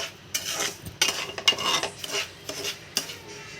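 Roasted semolina being mixed into sugar syrup for rava laddu, a spoon scraping and clinking against a metal pan in irregular strokes, close and fairly quiet.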